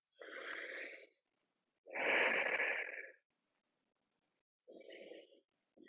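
Deep breaths during a low-impact flexibility workout, heard as three slow, close, airy inhale and exhale swells separated by silent gaps, with no talking.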